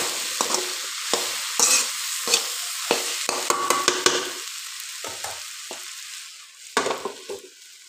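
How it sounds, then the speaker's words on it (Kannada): Okra stir-fry sizzling in a pan as turmeric is mixed in, a constant close frying hiss broken by repeated scraping and clattering strokes of a spoon against the pan. "ಸ್ವಲ್ಪ ಅರಿಶಿಣ ಪೌಡ್ರ್ ಹಾಕಂತಿದ್ದೆ. ಹಾಕೊಂಡು ಮಿಕ್ಸ್ ಮಾಡ್ಕೊಂಡು"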